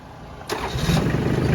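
A Kubota L2808 tractor diesel engine cranks and catches suddenly, then settles into a loud, rough, rumbling idle close by.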